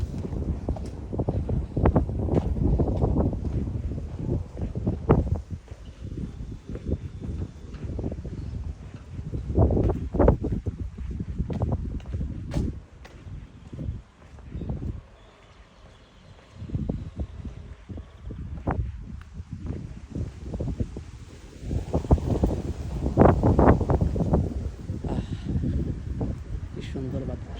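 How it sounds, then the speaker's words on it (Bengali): Gusts of outdoor wind buffet the microphone in low, uneven rumbling bursts on an evening walk past a closed supermarket, rising and easing over half a minute with a voice talking at times. "কি সুন্দর বাতাস"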